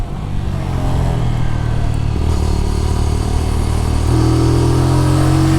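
A MITT GP 125 motorcycle engine drones loudly and steadily on a racing circuit as the bike rides close, with the pitch climbing as the throttle opens near the end.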